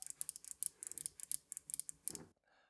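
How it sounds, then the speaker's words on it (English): A tactile volume wheel on a 75% mechanical keyboard is rolled, producing a quick, quiet run of tiny detented clicks in uneven bursts before it stops. "in the very top left-hand corner, we've got a very tactile feeling volume wheel"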